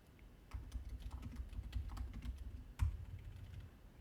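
Quiet keystrokes on a computer keyboard while a comment is entered, an irregular run of light taps with one firmer press near the end, close and soft, without speech.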